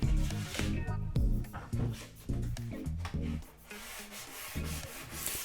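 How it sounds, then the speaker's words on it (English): Light back-and-forth hand sanding scuffs across a maple table top, knocking down grain raised by water-based dye; close rhythmic rubbing strokes with brief pauses between passes. "I do need to take a light sanding and knock down any of that raised grain"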